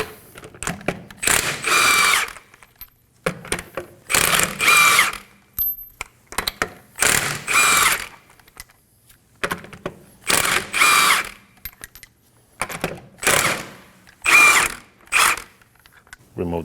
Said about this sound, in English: we're going to remove the lug nuts.